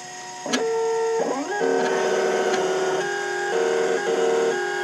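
A key cutting machine milling an HU100 key blade for a 2014 Holden Commodore VF, giving loud, shifting whines and grinding tones with sharp bursts as the cutter moves along the blade.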